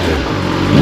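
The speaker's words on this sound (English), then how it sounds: "You'll always give it a couple revs here after it's warmed up." A used motorcycle's warmed-up engine revs briefly, a close, loud mid-pitched rumble that climbs sharply at the end of the short burst.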